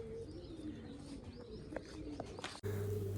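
Pigeons at a rural Punjabi loft coo softly and steadily at close range, a continuous low burbling with no talk, before the sound cuts off abruptly near the end.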